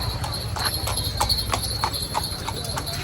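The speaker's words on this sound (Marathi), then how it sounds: "घोडा कसा" A horse's hooves clip-clop in a steady rhythm of moderately near steps over a constant low hum, with no voices.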